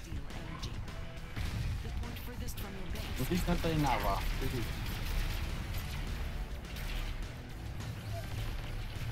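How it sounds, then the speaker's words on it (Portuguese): Gunfire and crashing impacts from the Robocraft video game hit an enemy base in a sustained loud burst, while several players talk over it in Portuguese. "Vou lá dar um tiro na base deles."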